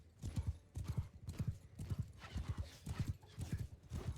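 Horse hooves gallop in the Mount and Blade 2 Bannerlord video game, a rapid, rhythmic clip-clop of repeated heavy strikes at an even pace, close and prominent.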